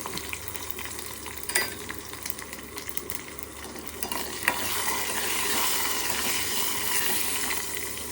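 A tempering of garlic, turmeric, mustard seeds and cumin sizzles in hot oil with a soft, steady crackle. A few clicks and scrapes from a spoon come first, then the frying swells louder and stays constant.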